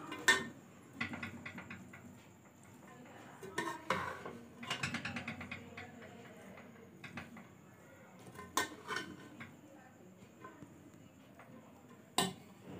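Boiled egg fried rice ingredients with peas are stirred and mixed in a pan, giving faint scattered clinks and scraping taps of a utensil against metal at an uneven rhythm.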